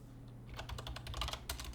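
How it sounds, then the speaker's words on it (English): Quick bursts of clicky keystrokes on a computer keyboard, close and quiet, with an irregular rhythm after a short pause at the start. "Let's type this out."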